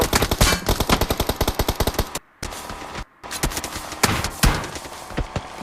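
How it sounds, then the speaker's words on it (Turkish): Rapid automatic gunfire in a PUBG match on the Erangel map during an esports event, with dense bursts of shots, two brief silent gaps, then more scattered firing. It is loud and close, with no talking. "Baya baya mermi geldi O7 Esports'a doğru."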